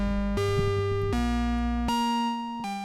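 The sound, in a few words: guitar through Maneco Labs Clusterverb reverb pedal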